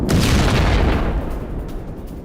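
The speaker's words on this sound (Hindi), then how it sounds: "डोनेस्क के पास यूक्रेनी सैन्य पोस्ट पर ड्रोन से हमला हुआ है।" A drone strike explodes on a Ukrainian military post near Donetsk: one heavy, close boom with a deep rumbling body that slowly fades away over a couple of seconds.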